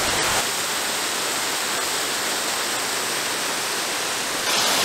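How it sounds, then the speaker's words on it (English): Small waterfall beside a steep hiking route across Ringvassøya, a steady broadband rush of falling water that fills the whole stretch at close range and fairly loud, with no voices. "I have a little waterfall next to me."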